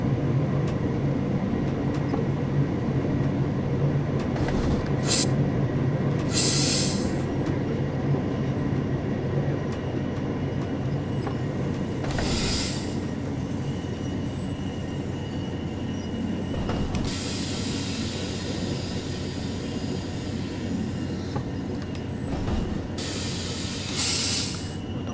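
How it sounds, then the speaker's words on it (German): A BR 628 diesel railcar on the Niddertalbahn line in Train Sim World 3 rolls along the track with a steady rumble and hiss, with occasional brief bursts of brighter wheel and rail noise, and no voices. "Das heißt, da können wir den Zug erstmal nur rollen lassen."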